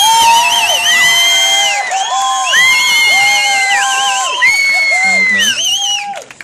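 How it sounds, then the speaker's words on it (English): A crowd of children and adults at a lip sync contest erupts in loud cheering, whooping and shrieking, a dense sustained roar that fades at the end. "cheer really loud for the one that is your favorite out of these three"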